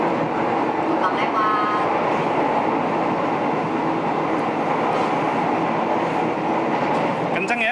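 Yogyakarta International Airport rail link train running fast, a loud, continuous rumble and wheel roar heard from inside the carriage, with brief squeals and faint talking under the noise.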